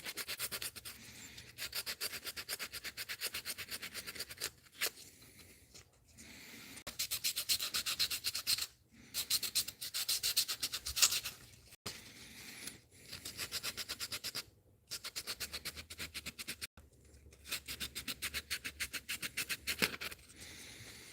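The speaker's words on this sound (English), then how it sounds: "we're going to get all this sanded, and then we'll get it sealed" A handmade wooden musky crankbait lure is sanded smooth by hand, a steady scratchy rubbing in long bursts separated by short pauses, close and fairly quiet, with no talking.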